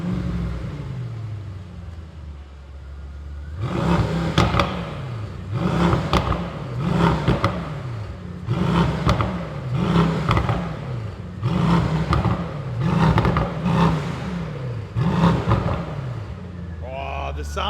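A Brabus Rocket GT1000 fires up outdoors after a few seconds of quiet background, then its exhaust barks through repeated rhythmic revs, each rising and falling in a steady pattern, loud and close, with a brief voice near the end.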